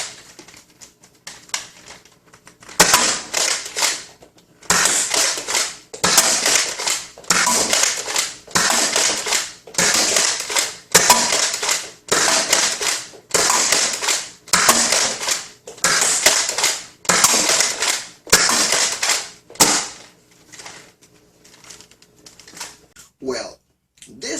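Dart Zone MAX Stryker blaster firing foam darts at a target, a steady run of about a dozen sharp loud shots in regular rhythm, each with a brief mechanical clatter, ending with a few faint handling clicks.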